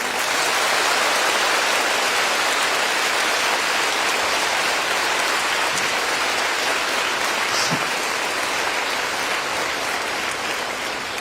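Sustained applause from a crowd, a dense steady patter of many hands clapping at once, continuing without a break.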